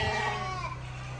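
A sheep bleats once on a small farm in Ghana, a loud, close, wavering cry that fades over about a second.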